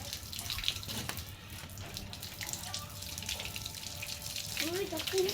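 Tap water running steadily during a bath, a continuous splashing hiss heard close up, with voices talking briefly over it.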